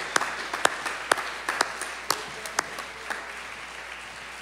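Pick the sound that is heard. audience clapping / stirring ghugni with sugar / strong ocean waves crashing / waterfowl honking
audience clapping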